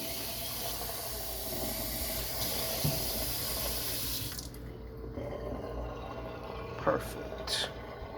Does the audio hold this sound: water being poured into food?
yes